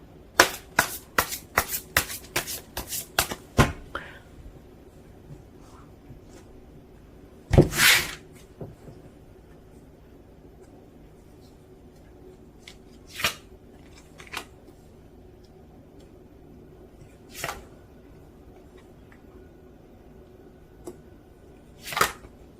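Tarot cards are riffled in a quick, crisp burst of snapping flutters. Separate card draws follow as occasional sharp slaps and swipes in a quiet room.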